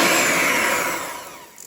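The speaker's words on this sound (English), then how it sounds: "So I'm going to whisk this." Steady, loud whirring of an electric whisk beating yellow sponge cake batter for a British arctic roll, a continuous motor drone that eases slightly toward the end.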